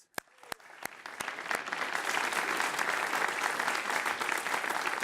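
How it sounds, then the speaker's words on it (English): An audience applauds two scholarship winners at a transportation conference: a few scattered claps open, then the clapping swells into a full, steady ovation that holds to the end. "there's a big applause also for the two scholars"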